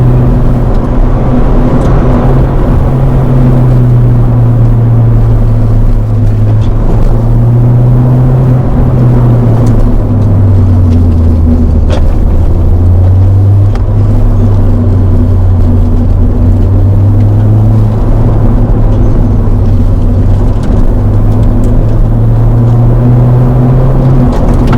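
A Ford Fiesta ST180 drives on the road after a front brake pad change, a steady loud engine drone and road rumble with the engine note rising and falling through gear changes, continuous and close with no talking.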